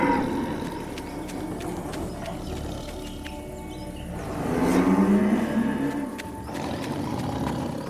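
A cartoon buffalo lows in an animated Jungle Book episode, a loud, drawn-out moo swelling midway over a busy, rumbling soundtrack, with no speech.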